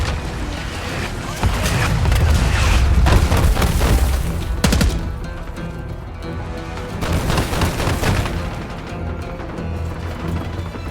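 Airstrike explosions and heavy gunfire in the Black Ops 6 video game: sustained bursts and deep booms rolling loudly for about ten seconds, with a sharp cluster of blasts near the middle and another swell of fire toward the end.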